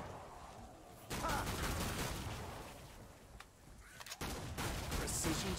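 Gunfire from a sharpshooter in Killing Floor 2, dense overlapping shots and blasts forming a continuous barrage, loud and busy, with chaotic combat noise throughout.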